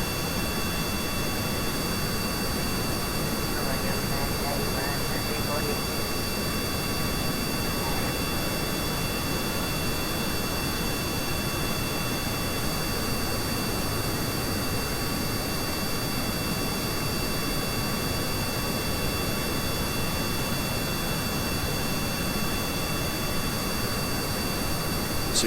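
Constant, unbroken roar of an aircraft jet engine in flight in Kerbal Space Program, a dense, even wash of noise with a faint steady whine on top, unchanging from start to finish.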